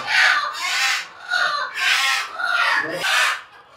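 Chickens on a rooftop farm, grabbed by the armful for sale, squawk loudly and harshly in four or five close, ragged bursts.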